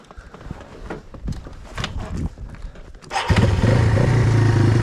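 Engine of a mud-bogging vehicle sputters and revs unevenly, then roars loudly and steadily after being choked and given gas, with brief talk in the background.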